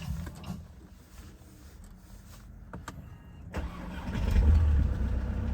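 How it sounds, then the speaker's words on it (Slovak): A snow-covered car starting on a cold day just below freezing: quiet clicks and a brief whir, then the starter cranks and the engine catches into a loud, rumbling idle close by, with no talk. "pozrieme sa na to, ako to naštartuje"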